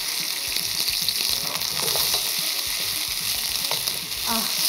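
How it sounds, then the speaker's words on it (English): Onion frying in smoking hot oil in a wok, a loud, steady sizzle with crackling spatters and stirring scrapes throughout, heard close up. "the second the onion hits that hot oil"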